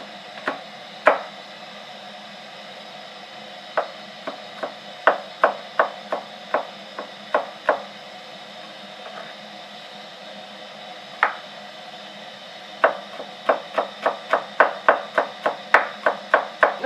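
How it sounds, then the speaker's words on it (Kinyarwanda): A knife chops onions very finely on a board, sending out sharp close taps in uneven runs over a steady background hiss. The taps start sparse, then come in fast rhythmic bursts near the end. "Ibitunguru ubikatamo uduce dutoya cyane, dutoya."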